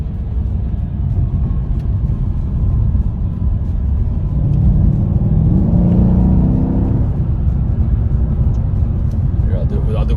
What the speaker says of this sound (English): And I love the rev matching downshifts.